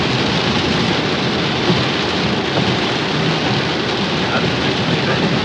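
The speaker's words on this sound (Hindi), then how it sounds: "देखिए कितनी तेज़ बारिश हो गई शुरू, बहुत तेज़ बारिश हो गई।" Heavy rain on a car during a drive near Kainchi Dham pours down in a dense, constant roar with no pauses, loud and close.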